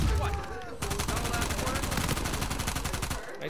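Rapid bursts of video game gunfire from Red Dead Redemption crackle loudly in a near-continuous fusillade, with a brief voice at the start before the shots take over.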